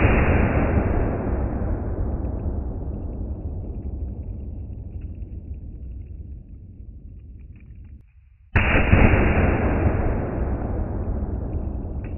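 A shot from a Coonan 357 Magnum 1911 pistol outdoors, a loud close blast whose booming rumble decays over several seconds, followed by a second sudden heavy report that rings on.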